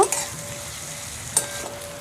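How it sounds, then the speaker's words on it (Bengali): Spices frying with chopped onion and garlic in a pan, a steady close sizzle with a couple of sharp stirring scrapes and no talk. "মশলাটা ভালো করে ভেজে নেব"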